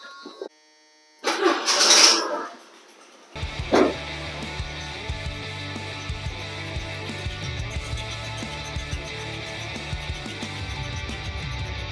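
An El Camino's engine catches at about three seconds with a sharp burst, then settles into a steady, close idle that runs on for the remaining seconds, following a short loud rush of noise just before.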